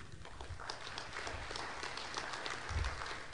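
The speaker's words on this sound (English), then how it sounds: "our applause goes for those who have stayed with us all weekend" Audience applause closing out a weekend conference, a steady wash of many hands clapping at moderate distance, fairly faint and continuous throughout.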